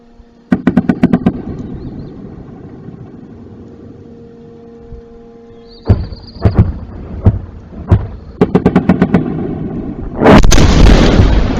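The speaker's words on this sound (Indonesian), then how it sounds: "bisa Anda dengarkan dentuman Iskander dan juga submunisi terdengar jelas pada rekaman CCTV" Several heavy booms from Iskander missiles and rapid clusters of submunition blasts, some in quick bursts, ending in a sustained loud roar of explosions, caught on CCTV.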